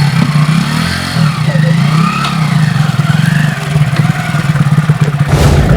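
A motorcycle engine runs steadily close by, a continuous low rumble with a slight rise in revs near the end.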